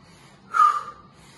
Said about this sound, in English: Exhale and side bend.